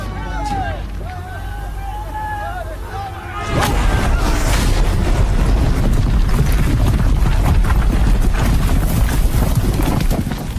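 Guns open fire in a film battle against robot dinosaurs, a dense, loud barrage of rapid booming shots and clatter following shouted voices and mechanical creature cries.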